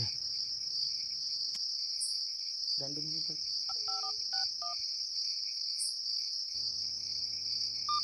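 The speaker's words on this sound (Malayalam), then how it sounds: "ആ ചൊറഷീദിനെ വിളിക്കാം. വിളിക്ക്." A phone number dialed as a quick run of electronic keypad tones over a constant loud chirring of crickets, followed by a steady ringing tone.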